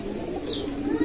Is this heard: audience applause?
no